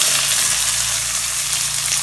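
Chopped onions fry in a pan with bay leaves as the start of a Tamil egg curry, making a loud, continuous hiss that holds steady throughout with no talking.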